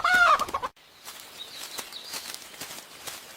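A chicken clucks and squawks close by as it is caught in a backyard, loud agitated calls at first, then softer scattered clucks and rustling.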